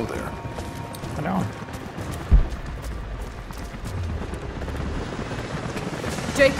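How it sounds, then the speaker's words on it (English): A steady low rotor drone runs throughout, with mechanical clanking and a couple of louder thumps, a helicopter hovering nearby in the video game Rise of the Tomb Raider. "helicopters are headed your way"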